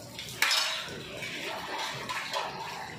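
Metal fork tines repeatedly pricking cut mango pieces, with small clinks and taps against a dish forming a steady, close, moderately loud clatter; no talking.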